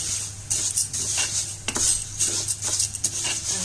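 Orzo pasta being toasted in a little oil in a pan at home, heard as a run of close metallic scrapes and clinks of a utensil against the pan over a faint steady hum, with no talking.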